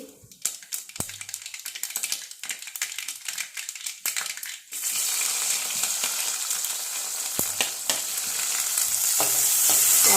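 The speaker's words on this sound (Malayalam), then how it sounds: "കടുക് പൊട്ടി" Mustard seeds splutter in hot oil. Light scraping and clatter come first, then a dense crackling sizzle takes over and grows steadily louder and harsher toward the end.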